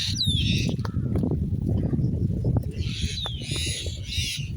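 Mynas screech and squawk in bursts around a relative trapped in a net during rain, with harsh calls over a steady, dense patter of rainfall.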